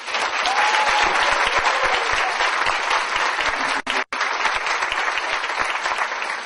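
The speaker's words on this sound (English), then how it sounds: "Let's give Sujin a round of applause." An audience at an Army Family Action Plan conference outbrief gives a steady, dense round of applause that continues at an even level for several seconds, with a brief break near the middle.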